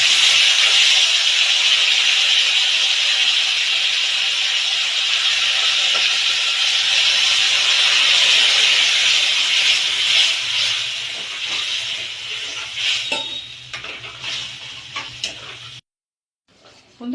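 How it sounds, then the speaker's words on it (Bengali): Spice paste and two bay leaves hit hot oil and sizzle loudly and steadily, then the hiss gradually thins into scattered crackles before cutting out near the end. "যেই মশলাটা আমি পেস্ট করে রেখেছিলাম, এবার সেই মশলাটা আমি এখানে গরম তেলের উপর দিয়ে দিচ্ছি।"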